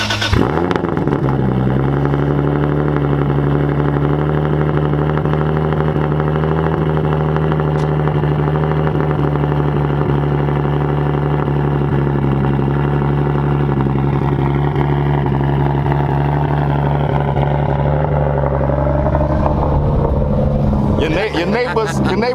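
A pink turbocharged 2JZ-swapped BMW E30 on BBS wheels runs loud and steady from inside the car, with a deep droning engine note and people talking over it throughout.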